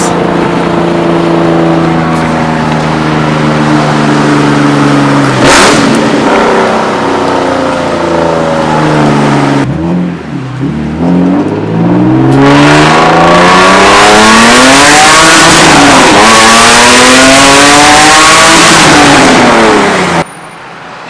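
A Nissan 350Z engine revs hard and loud in a tunnel, with repeated rising and falling sweeps, a brief dip midway, then sustained roaring climbs echoing off the walls until an abrupt cutoff.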